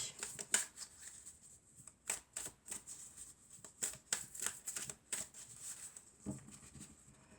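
Oracle cards are shuffled by hand in a quiet room, a series of quick papery riffles and flicks arriving in uneven bursts, close and soft, with brief pauses between them.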